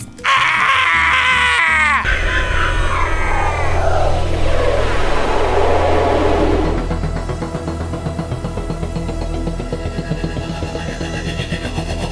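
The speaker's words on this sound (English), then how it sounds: "They actually looped the same screaming sound effect over and over on top of itself." A film scream sound effect looped over itself, several overlapping wailing screams piling up loudly at first, then smearing into a dense, droning wash that fades slightly toward the end.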